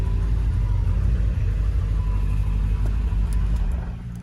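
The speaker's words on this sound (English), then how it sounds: "you can hear it's a nice burble" A Porsche 928 GT S4 with its 5.0 V8 and manual gearbox burbles at idle nearby, a deep, steady low rumble that eases off slightly at the end.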